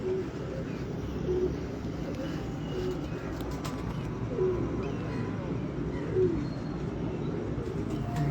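Pakistani pigeons coo softly in a loft, low repeated throaty calls rising now and then over a steady background murmur, with a faint voice nearby.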